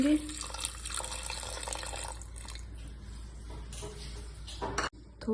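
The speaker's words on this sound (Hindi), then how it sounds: "अब इसमें मैं पानी ऐड कर दूंगी।" Water poured into a pot of washed rice, dal and chopped spinach while cooking a baby's meal at home, a steady running, splashing flow throughout with a short gap near the end.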